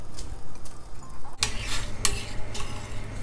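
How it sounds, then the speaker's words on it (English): Rice pours into a pot with a short rattle, followed by a burst of bubbling and hissing as boiling water churns, with light scraping. "Now drain the water and add the rice to the boiling water."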